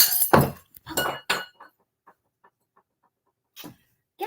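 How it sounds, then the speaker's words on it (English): A wine glass clinks and breaks in a few sharp bursts, followed by small scattered tinkles of falling pieces and a final crash near the end. "And then I'll break a wine glass."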